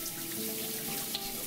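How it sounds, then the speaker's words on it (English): Shower water runs in a steady, even hiss of spray onto a surface, close and continuous with no voices. "Take a shower."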